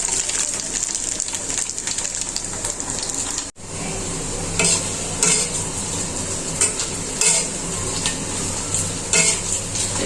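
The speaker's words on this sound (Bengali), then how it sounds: "এগুলো হালকা ভাজবো আর কি, ভাজার পর উঠিয়ে রাখবো।" Fish balls fry lightly in a pan with a constant bright sizzle. After a brief drop near the start, a series of louder scraping and stirring bursts rises over the frying.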